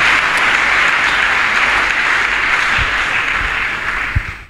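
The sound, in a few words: audience applause in church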